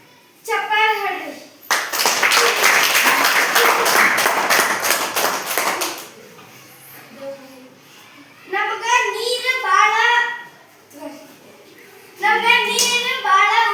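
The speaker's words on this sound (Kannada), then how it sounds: "ಚಪ್ಪಾಳೆ ಹೊಡೆಯಿರಿ." Children clap their hands together in a classroom for about four seconds, a loud dense patter of many small claps, followed by an adult speaking in a clear, close voice.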